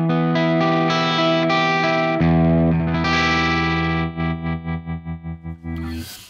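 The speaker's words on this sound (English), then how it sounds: "That's the Jazz Chorus amp." A guitar runs through the Jazz Chorus amp model of the STL Tonality plugin, playing loud sustained chords with a shimmering chorus effect, then a rapid pulsing tremolo-like chop near the end, with no voice.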